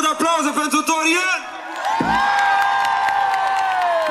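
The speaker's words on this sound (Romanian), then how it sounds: "Vreau să aud aplauze" A crowd at a live concert in Arad, 2016, cheers and whoops loudly, with shouts and some applause mixed in, alongside a voice and ringing musical tones.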